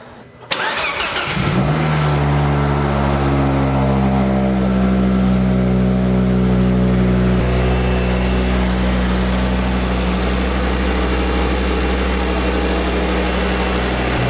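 A Volvo V70R engine cranks and catches, then settles into a loud, steady rumble with a slight rise in revs partway through, with no talking.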